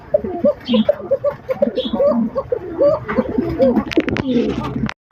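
Desi fancy racer pigeons coo in repeated soft, throaty warbles close by, with someone talking over them and a few handling clicks near the end.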